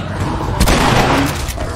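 Loud, booming gunfire from a shotgun in the video game The Last of Us, a dense blast that fills the short moment and sounds heavy and close.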